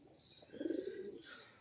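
Beldanga deshi giribaj pigeons give a soft, low cooing call close by, with faint chirps and shuffling around it. No one speaks.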